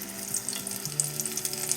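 Shrimp cooking in hot oil give a steady, close sizzle with frequent small crackles across a brief stretch.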